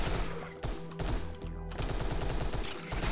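A Tommy Gun fires in the video game Serious Sam's Bogus Detour, with rapid bursts of automatic fire broken by short pauses, loud and close over game background sounds.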